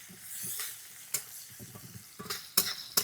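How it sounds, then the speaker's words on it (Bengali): Chopped onions sizzle and get stirred on a wood-fired clay stove, a steady close fry broken by sharp scrapes and clinks of the spatula against the pan, with no one speaking. "তো এইদিকে পেঁয়াজ কুচিটা এখন সুন্দর করে ভাজতে হবে"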